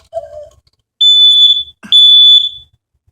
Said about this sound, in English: That was the smoke detector.